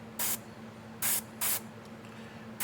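Airbrush spraying paint for realistic skin tone on a figure's thin hair, three short bursts of hiss, the middle two close together, over a steady low hum.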